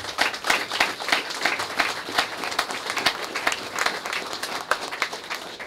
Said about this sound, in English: let's give the Vereen family a round of applause